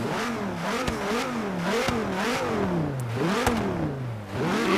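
A sports car's engine in the Forza Horizon 3 racing game revs up and down repeatedly, a loud, steady roar with rising and falling pitch and a few sharp clicks, and no voices.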